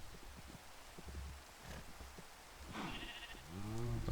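Sheep bleats in the Minecraft video game, a few wavering bleats near the end, the clearest and loudest one closing the clip over quiet game ambience and rustling.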